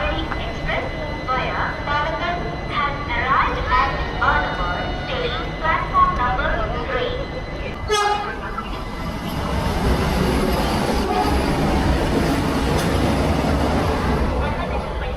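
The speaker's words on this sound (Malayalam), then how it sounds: "ആലുവ റെയിൽവേ സ്റ്റേഷൻ്റെ പ്ലാറ്റ്ഫോം നമ്പർ 3ലേക്കാണ് ട്രെയിൻ കടന്നു വരുന്നത്." The Sabari Express, on an ICF rake, rolls into platform 3 at Aluva railway station. Voices sound over a rail rumble at first, then a loud, steady broadband roar of passing coaches takes over for the rest.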